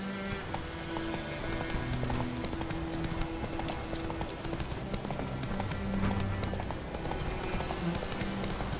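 Roach, the horse in The Witcher 3: Wild Hunt, galloping in a continuous rapid clip-clop of hooves, loud and steady throughout, layered over game music and ambient sound.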